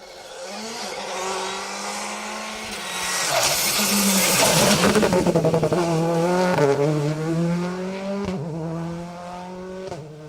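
A Citroën C3 rally car on a rally stage at the Down Rally approaches with a rising engine note, roars past at full throttle, then its tone drops and shifts through gears as it pulls away.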